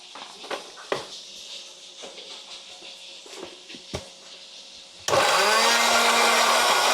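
Kitchen blender grinding shallots with salt and oil, switching on abruptly after scattered quiet handling knocks and running as a loud steady whir to the end.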